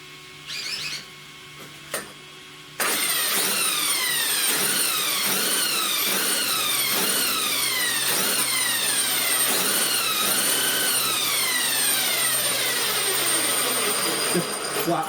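Giant RC car with paddle tires starts up after a few clicks and a voice, then a loud steady electric motor whine, with repeated rising pitch sweeps as it runs on a table.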